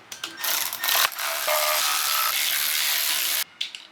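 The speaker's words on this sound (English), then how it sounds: "I'm just going to tighten them to just taut, and then I'm going to torque them" A hand ratchet snugs timing case bolts on a BMW M54B30 engine during an X5 rebuild, giving a close, rapid, buzzing run of pawl clicks with brief breaks, then falling silent.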